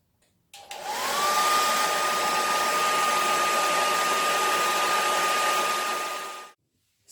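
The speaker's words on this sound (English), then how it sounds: "So I'm using a hairdryer on it to first of all soften up the glue" Hairdryer heating and softening glue on a fabric sample book, switching on with a rising whine and then blowing at a steady high-pitched roar before cutting off, close to the listener.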